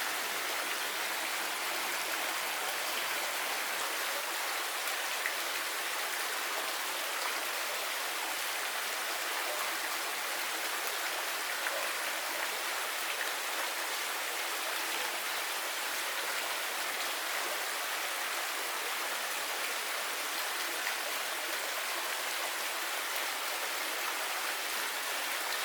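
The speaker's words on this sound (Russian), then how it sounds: "Друзья мои, продолжение строительства водопада" Steady, moderately quiet rush of water pouring in a waterfall under construction, a constant hiss-like flow with no pauses or voices.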